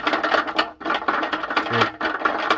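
A worn roller inside a GE dryer drum assembly gives off a continuous gritty, rattling whir with uneven pulses and brief dips, close and fairly loud with no talking.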